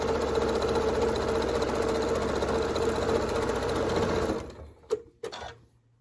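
A sewing machine runs steadily as quilt pieces for a scrap quilt are stitched with a quarter-inch seam, a continuous close mechanical whir that stops abruptly, followed by a couple of brief clicks.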